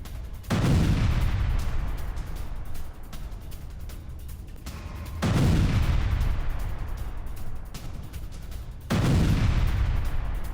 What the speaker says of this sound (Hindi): आर्टरी अटैक में रूसी आर्मर्ड व्हीकल तबाह